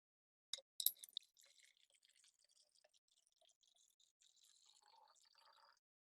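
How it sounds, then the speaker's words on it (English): Water poured into a bottle in a home refraction experiment, heard as a quiet run of drips and gurgles opening with a few sharp splashes and trickling faintly for several seconds. "But once I pour some water in,"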